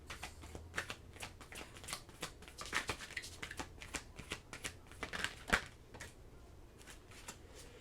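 Oracle cards being shuffled by hand, a quiet, close run of soft riffling and flicking bursts in an irregular rhythm with no speech.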